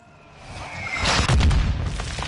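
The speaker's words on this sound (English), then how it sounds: "We're launching mortars." Booming explosions from mortar fire in the Call of Duty: Modern Warfare 2 campaign build from a low rumble into a heavy, sustained blast with rolling low-end thuds, loud and close, with no talking.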